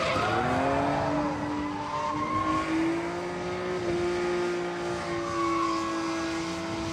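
A race car engine sustains a loud, steady drone during qualifying runs, its pitch holding and shifting slightly as it passes at moderate distance, with no talk over it.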